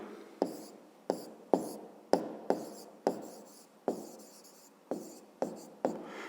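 Pen strokes writing out a fifth-grade maths exercise on paper, a series of about ten short scratchy bursts at a steady, unhurried pace, close and fairly quiet, with no talking.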